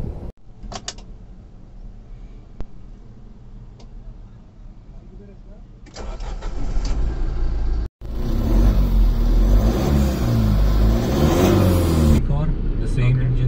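Tata Yodha 2.0 pickup truck with an engine shared with older Safaris, idling with a low rumble and then revving harder and louder into a sustained drone, with a brief cut partway through.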